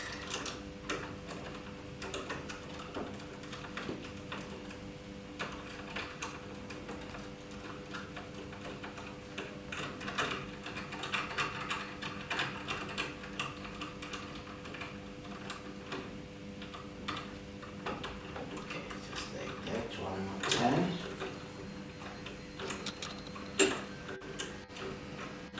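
Two 10 mm nuts are tightened on a Parker Duranite Shire high-level cistern fitting, giving a long run of small, fairly regular clicks and ticks, close and quiet, with a few louder knocks near the end.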